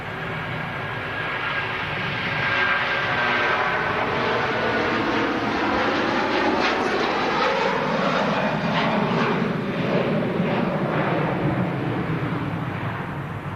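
A fixed-wing airliner climbs out from Manchester airport with a broad, sustained engine roar. It builds quickly and stays loud and steady, with a slowly shifting rumble as it passes.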